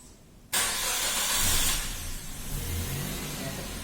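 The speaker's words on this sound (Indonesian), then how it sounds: "nyalakan kendaraannya dulu" A car engine cranks and catches, jumping from quiet to a loud, steady running roar that briefly revs before settling into a rumbling idle nearby, with a slight fault in the engine sound.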